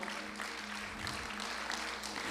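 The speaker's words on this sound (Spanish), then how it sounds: "Dale un fuerte aplauso de gratitud al Señor." A church congregation claps together, a steady dense wash of applause throughout, fairly loud and unbroken over the short stretch.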